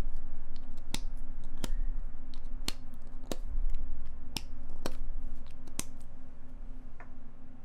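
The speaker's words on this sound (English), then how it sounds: "This is the sound of chapstick being taken out." A chapstick tube being pulled open, heard as a series of sharp, close, quiet clicks and ticks spaced roughly a second apart over a steady low hum.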